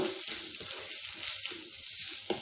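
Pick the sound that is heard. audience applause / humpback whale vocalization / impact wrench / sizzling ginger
sizzling ginger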